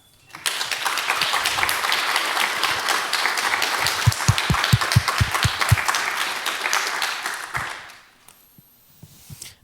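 An audience at a university event breaks into sustained applause, a full roar of clapping with a few sharp individual claps standing out midway, before it fades out and leaves near silence.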